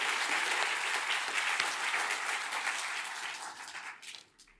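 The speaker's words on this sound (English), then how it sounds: "So will you join me giving a big round of applause?" A large audience applauds Kishore Mahbubani with a dense, continuous wash of clapping that holds steady, then fades away over the final second.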